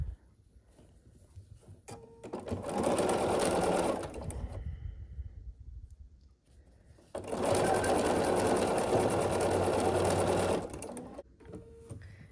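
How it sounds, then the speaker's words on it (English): A sewing machine stitching quilt block pieces together, running in two sustained bursts of rapid, steady whirring separated by a short pause, close and loud with no talking. "I'm going to start sewing that"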